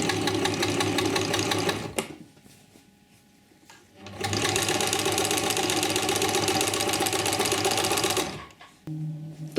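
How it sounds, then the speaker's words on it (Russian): Sewing machine stitching a pillowcase seam made from a man's shirt, running in a loud steady rapid whir, pausing for about two seconds, then stitching again for several seconds before stopping. "Прокладываем строчку на расстоянии 3-5 миллиметров."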